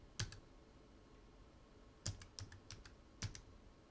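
Quiet computer keyboard typing in short bursts: a single keystroke, then a quick run of several clicks, then another pair of taps, close and faint over light room hiss.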